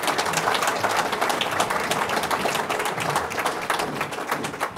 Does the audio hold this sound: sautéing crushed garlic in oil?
no